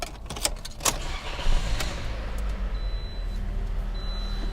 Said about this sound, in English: Start the Corolla up.